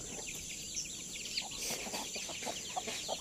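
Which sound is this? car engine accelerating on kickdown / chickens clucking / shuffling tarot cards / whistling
chickens clucking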